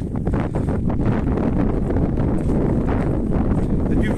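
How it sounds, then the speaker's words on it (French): Strong wind blowing outdoors and buffeting the microphone, a loud continuous low roar with gusty rumbling and no let-up. "Il y a du vent."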